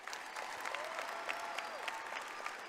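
An audience at a high school graduation ceremony applauds, a steady wash of many hands clapping that sounds distant and fairly quiet, with a few crisper claps rising through.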